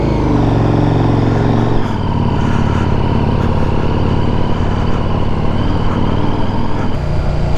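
A motorcycle engine runs steadily and loudly close by during the ride home, its low droning note shifting after about two seconds as it settles into a constant hum.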